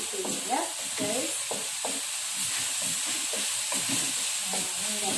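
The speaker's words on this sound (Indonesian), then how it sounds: "Masak sampai bumbunya kering, sampai minyaknya keluar, sampai baunya harum" A spice paste sizzles and hisses as it fries in hot oil, with soft stirring scrapes breaking through at irregular intervals over the steady frying noise.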